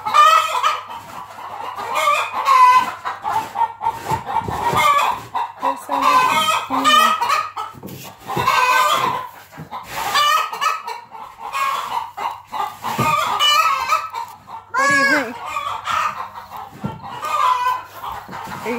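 Chickens and roosters in a farm chicken coop cluck and squawk almost without a break, loud and close, with repeated bursts of overlapping calls.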